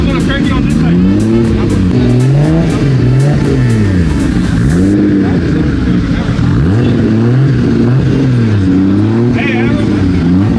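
Engine of a blown-up Toyota Celica being cranked and revved, loud repeated rising and falling revs over a continuous rough idle, with people shouting nearby.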